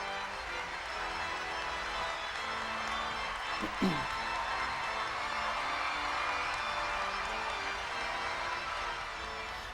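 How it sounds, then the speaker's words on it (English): A steady wash of crowd noise from thousands in Paul VI Hall, Vatican, sustained applause for the Pope's appearance, with a brief voice rising out of it midway. "the warmth expressed in the applause of the thousands assembled to hear the Holy Father was real as well"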